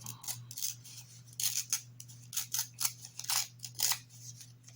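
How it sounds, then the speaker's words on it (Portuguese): Scissors snip and slice through a paper coffee filter in a quick, uneven run of crisp cuts with some tearing, close up with no talking. "Vou deixar a parte do coador de café, né, aparecendo, medir. E vou cortar do lado de cá, rasgando aqui, ó."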